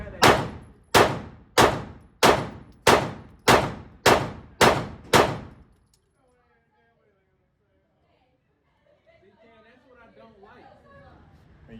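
Eight rapid airsoft shots from a Walther PDP pistol ringing off steel targets, evenly spaced loud metallic clangs, then a pause and faint distant chatter from people nearby.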